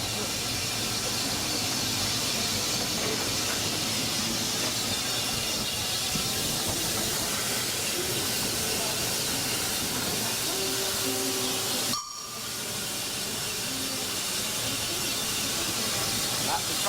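A narrow gauge steam locomotive on a turntable hisses steadily at close range, with rumbling and faint metallic squeals, a brief break around twelve seconds, and voices talking now and then.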